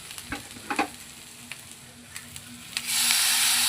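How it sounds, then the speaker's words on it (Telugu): Ginger paste frying for a chicken curry, with a few sharp spoon clinks and scrapes before a sudden bright, loud sizzle bursts up and holds close for the last second. "మంచిగా అల్లం పేస్ట్ వేసి మంచిగా ఫ్రై చేయండి."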